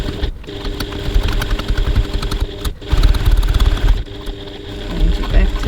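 A sewing machine stitches the side seam of a handbag, running in a steady continuous whir with brief pauses and restarts, fairly loud and close.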